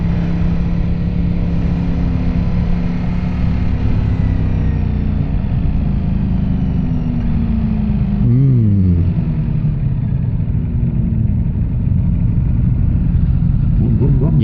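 A motorcycle engine rumbles steadily at close range on the road, with the pitch rising and falling as another bike goes by partway through.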